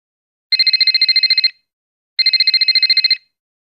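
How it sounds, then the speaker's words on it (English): A telephone rings loudly with two electronic trilling bursts of about a second each, separated by a short pause, clean and close with no voices. "Let me call Patrick to find out from him."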